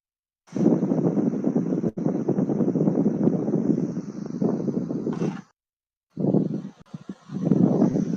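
Wind buffeting a microphone in two long roaring gusts, a steady rush broken by a short silence before the second burst, loud and close with no other sound.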